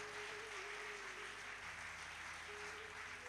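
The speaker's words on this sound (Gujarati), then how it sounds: "એને માટે એકવાર તો તાળી થઈ જાય." Steady applause from a devotional discourse audience on Bhagavad Gita chapter twelve, a dense even wash of clapping that carries on without a break and no voices over it.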